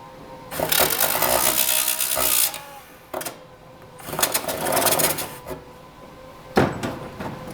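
A power tool cuts a notch into a cracked fiberglass part in three loud bursts of grinding buzz separated by short pauses, close and without talk.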